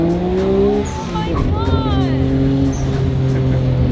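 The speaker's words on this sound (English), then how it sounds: "It skips the tires in an all-wheel does. drive car." Nissan R33 GTR accelerating on a street, its engine note climbing through gears while the all-wheel-drive tires chirp and skip; excited voices talk over the loud, close engine.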